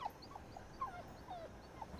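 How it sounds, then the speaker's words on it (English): A dog whimpers and yelps softly in a few faint, high, whining calls spread over a quiet background. "Let's see if these owners can understand what different barks mean."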